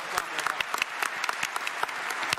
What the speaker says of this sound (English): A round of applause for Chris.